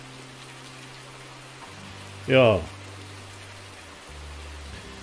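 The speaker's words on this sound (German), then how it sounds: "Dann ist der Regen an sich zu laut." Steady rain hisses continuously in a farming video game set in Thuringia, with tree felling under way, a soft constant wash under a brief spoken word and low game engine hum.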